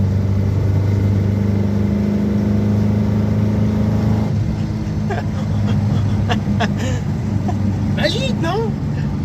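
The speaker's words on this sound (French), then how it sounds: "La voiture, elle roule bien. Bon, elle fait du bruit, mais c'est normal." Vintage Simca Aronde engine running while driving, a steady mid-pitched drone that stays loud and close throughout, with a voice talking over it in the second half.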